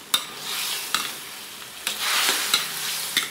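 Chicken in oyster sauce is stirred in a hot pan, a continuous sizzle broken by several sharp scraping clanks of the utensil against the pan at irregular intervals.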